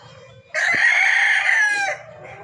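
A straight-breed gamefowl rooster, a PSG cross, lets out one loud, close crow that holds steady for over a second before trailing off, with quiet background noise before and after.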